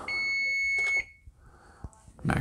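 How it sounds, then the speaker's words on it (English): A kitchen timer signals the end of baking salted caramel macarons, sounding a steady high-pitched electronic beep for about a second, followed by quieter kitchen handling noises and a clatter. "timer's going off."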